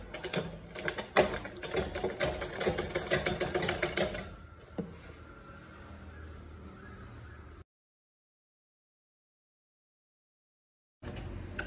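Sewing machine stitching the folded sleeve hem of a half-sleeve ruffle top, rapid rattling bursts of needle clatter for about four seconds, then quieter handling noise, a stretch of silence and a short final burst.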